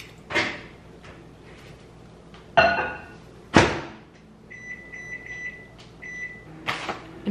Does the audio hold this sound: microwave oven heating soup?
yes